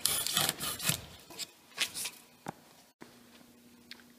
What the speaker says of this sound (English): turned out the bread knife works pretty good for these small strips